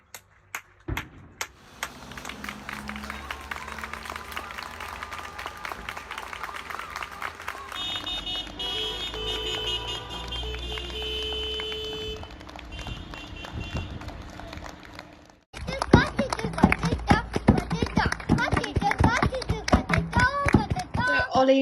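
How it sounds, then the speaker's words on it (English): Street clapping for NHS doctors, nurses and carers on a Thursday night in the UK, scattered claps growing into sustained applause with car horns, then a louder, denser burst of clapping near the end. "the UK is also clapping for the National Health Service, doctors and nurses every Thursday night."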